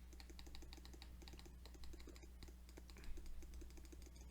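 Rapid, faint computer mouse clicks repeat in quick irregular runs at a desk, close to the microphone over a steady low electrical hum, with no voices.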